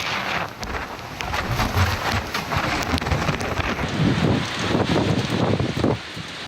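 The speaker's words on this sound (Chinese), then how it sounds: "强风暴雨刮出宛如飞弹来袭般的呼啸声" Typhoon wind and heavy rain lash northern Luzon in the Philippines, a dense, steady roar of rain and gusting wind that swells and fades slightly, loud and close with no voices.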